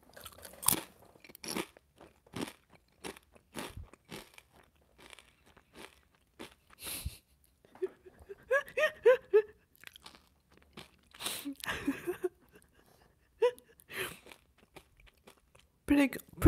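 Black truffle potato chips crunched and chewed close to the mic, a series of crisp irregular crunches and bites with short pauses, and a person talking intermittently between them.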